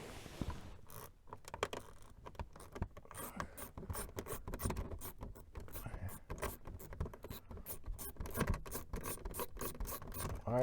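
Close, dense run of rapid ratcheting clicks and scraping from a Titan micro swivel ratchet backing out a 7mm bolt while changing the cabin air filter on a 2010 Buick LaCrosse, with short pauses between bursts.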